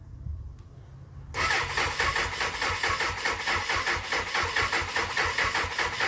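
A Suzuki Bandit 600 motorcycle with a no-spark fault: the starter grinds laboriously for about a second, then the engine catches into a rough, pulsing run at close range, with no voices.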